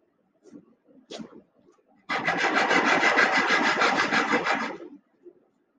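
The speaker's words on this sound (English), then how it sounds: "I sanded it just a little bit too much." A wooden wall piece for a Midwest Products model house is sanded with a steady, close rasping scrub for about three seconds, preceded by a few faint taps and handling noises.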